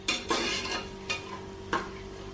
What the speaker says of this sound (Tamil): முந்திரி நல்லா செவந்து வர்ற வரைக்கும் நம்ம வதக்கிக்கலாம்